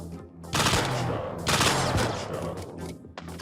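Gunfire in a mobile shooter video game, with loud bursts of rapid automatic fire filling most of the clip, a short pause, then more shots, close and dense, with a voice faintly underneath.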